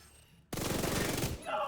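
A Flatline rifle fires in a video game as a quick, loud burst of rapid automatic shots lasting under a second, followed by a brief mechanical rattle.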